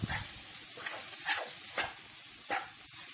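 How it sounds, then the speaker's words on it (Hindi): Chopped tomatoes hit a hot pan of ginger-garlic masala, producing a steady hiss and sizzle broken by several sharp bursts of spitting, steamy crackle. "नेक्स्ट हम इसमें डालेंगे 3 मीडियम साइज के चॉप किए हुए टमाटर"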